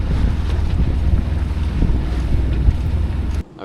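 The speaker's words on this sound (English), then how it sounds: "No wind, so I've been motoring the whole time." A sailboat motors under engine power through calm water between Mana Island and Waya Island in Fiji, a steady low engine drone mixed with wind buffeting the microphone and water wash, cutting off abruptly near the end.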